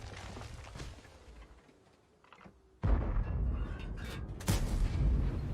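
A T-55A tank cannon shot lands on target in a tank video game, a sharp loud blast after a quiet stretch, followed by rumbling battle noise and a second burst near the end.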